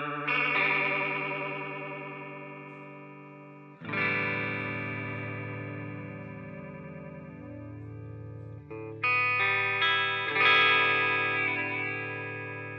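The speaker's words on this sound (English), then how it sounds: "It sounds like a very, very subtle phase shifter, phaser." Sustained chords pass through a chorus effect set so it swirls like a subtle phaser, played as three separate strummed passages that ring out and slowly decay, with no talking.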